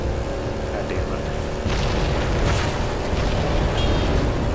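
A rocket explosion in Halo 3 lands as a loud, rumbling boom with a burst of debris noise, set within busy game sound and under continuous talk.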